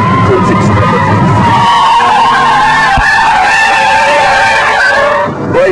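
A Volkswagen Corrado driven hard on a disused runway at about 140 mph: loud engine roar and tyre squeal as it is thrown about, with a brief thump midway and the sound easing slightly near the end.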